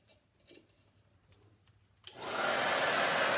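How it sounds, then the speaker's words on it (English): A hair dryer drying chalk paint on a small metal bucket switches on after a few quiet seconds of faint handling noises, then blows steadily and loudly close by. "you can use the dryer to force the drips down"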